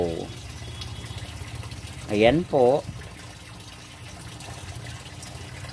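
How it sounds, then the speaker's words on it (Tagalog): Water flows steadily into a koi pond, a soft, continuous trickling wash heard close, briefly interrupted by a short spoken phrase midway. "Dahan-dahan ko guys na itataas yung tubig."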